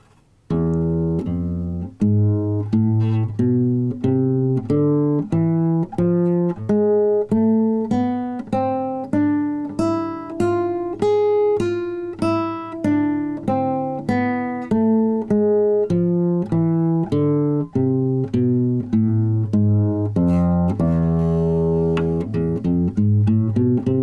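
A guitar plays the Phrygian dominant (flamenco) scale with an exotic, Spanish flavor, climbing up and then descending again in steady, evenly spaced single notes. No voices are heard.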